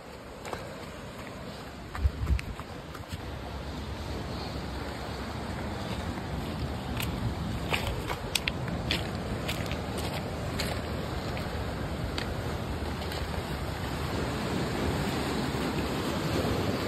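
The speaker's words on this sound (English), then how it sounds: "Bruh, this is a windy trail." Wind sweeps steadily across a coastal trail at San Pedro's Sunken City, a continuous broad rushing hiss with a few faint clicks and rustles, and no talking.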